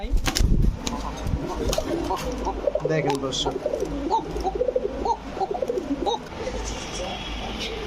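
Fancy pigeons of Beauty, King, Racer and Shahranpuri breeds coo repeatedly at a pigeon farm, their close rhythmic calls overlapping while someone talks at the start and some wing flaps sound in between.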